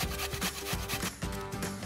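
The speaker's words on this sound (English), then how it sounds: "Now peel and grate your potatoes." Peeled potatoes rubbed against a box grater in a home kitchen for a potato crust, a steady rhythmic scraping with repeated strokes, close and fairly loud with no talking.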